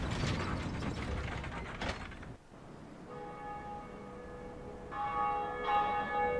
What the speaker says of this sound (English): let's pull the lever.